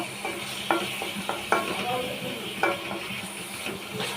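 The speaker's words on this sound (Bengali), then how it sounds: "এগুলোকে আমি একটু কষিয়ে নেব" Chili and turmeric powder sizzle as they are sautéed in a hot pan, with a steady frying hiss and repeated scraping strokes of a spoon at close range.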